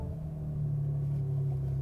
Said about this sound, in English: let's see in the cabin what that inline six-cylinder sounds like